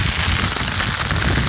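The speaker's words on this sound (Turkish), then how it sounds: "Atar atmaz yağmur başladı." Steady rain drums on a tent at a 1600 m mountain plateau camp, a dense continuous patter of drops close by with no voices.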